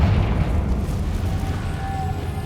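The Confringo explosive spell in the video game Hogwarts Legacy lands as a deep, rumbling boom that fills the moment and slowly tails off, heavy and close.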